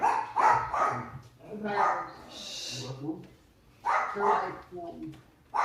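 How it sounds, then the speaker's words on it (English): Several dogs barking indoors in bursts during a tabletop game session, loud and close, with yips and whimpers mixed in while people talk over them. "Stop it, dogs."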